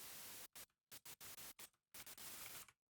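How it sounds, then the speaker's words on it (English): White noise static from a synthesizer's three-oscillator plugin, chopped into short hissing bursts of uneven length that start and stop abruptly, loud and close with silent gaps between and no voice. "You make white noise. If you don't know what white noise is, it's static."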